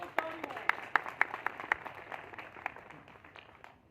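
Audience applause at an inauguration ceremony for completed development work in Tando Saindad, scattered sharp claps that thin out and fade within a few seconds.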